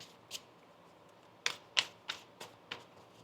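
Quiet, crisp snaps of tarot cards being shuffled, a handful of separate flicks spaced out irregularly in an otherwise hushed room.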